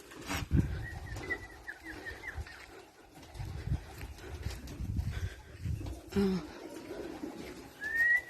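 Soft, low cooing from pigeons in a noisy outdoor yard, with scattered bird chirps and brief thumps around it.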